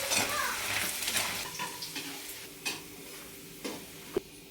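Garlic and salt sizzle in hot oil while being stirred for Telangana gongura pickle, with a spoon scraping the pan and a few sharp clicks, close and fairly quiet.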